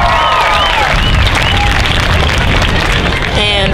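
An audience at a cosplay contest claps and cheers loudly, with a few high whistles rising over the steady applause.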